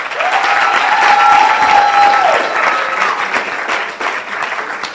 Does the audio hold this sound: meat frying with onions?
no